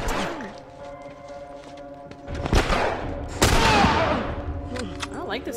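Gunfire in The Last of Us video game: two loud bursts of shots, the second heavier and longer, over a busy game soundtrack with a voice talking in the background.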